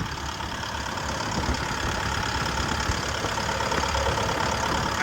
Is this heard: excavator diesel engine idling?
yes